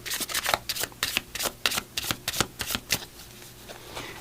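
Tarot cards being shuffled for an angel number draw: a quick run of crisp riffling slaps in a steady rhythm, close and fairly loud, fading into softer rustling near the end.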